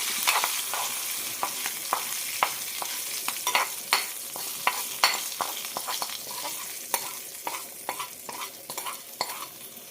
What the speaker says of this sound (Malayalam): കടുക് ഉഴുന്ന് കറിവേപ്പിലയാണ് തളിച്ചിരിക്കുന്നത്